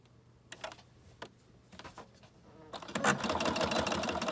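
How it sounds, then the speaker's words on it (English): Sewing machine running a zigzag stitch along the bottom edge of an envelope junk journal notebook, with a few scattered clicks and taps first, then a loud close continuous whir for the last second and a half. "I'm going to put on a zigzag stitch, and I'm just going to go along the bottom here"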